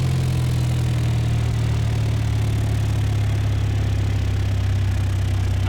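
Single-engine airplane engine at idle power during a landing approach in a flight simulator, a steady droning low hum with no speech, constant and fairly loud throughout.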